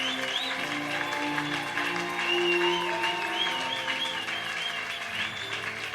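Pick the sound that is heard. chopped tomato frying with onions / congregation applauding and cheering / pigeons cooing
congregation applauding and cheering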